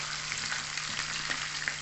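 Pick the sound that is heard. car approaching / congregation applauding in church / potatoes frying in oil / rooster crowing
potatoes frying in oil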